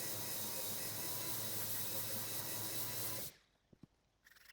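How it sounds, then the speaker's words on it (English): A power sander works on a wooden chopping board edge, a steady loud broadband whir for about three seconds before it stops, leaving a few faint knocks and a quiet hiss. "just sand them down a bit just to get rid of that sharp edge"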